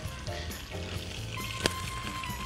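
Butter and oil sizzle hard in a frying pan, ready for portobello mushrooms beside steak, a steady close hiss and crackle with small pops that continue unbroken.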